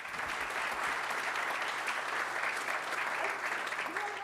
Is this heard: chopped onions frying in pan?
no